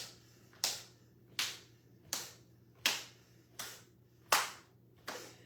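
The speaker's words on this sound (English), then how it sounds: "clap your hands as the hands are coming forward" Seven crisp hand claps land at a steady, unhurried pace during an early morning yoga session, each one close and distinct with quiet pauses between them and a low steady hum underneath.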